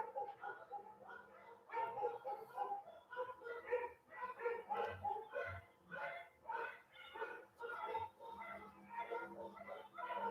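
Several dogs yip and bark in a dense, continuous jumble, loud and steady throughout, with bells likely mixed into the busy chorus.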